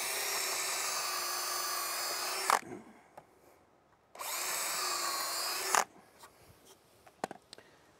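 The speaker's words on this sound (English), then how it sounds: "Drill 2 holes." A power drill whirs at high pitch in two separate bursts of about two seconds each, bored into wood, with quiet clicks and handling noises between.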